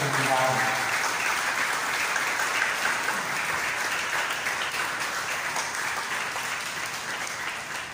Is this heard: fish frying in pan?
no